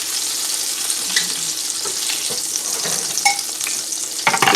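Steak browns in about a tablespoon of oil in a skillet, giving a steady close sizzle and crackle with a few brief clinks.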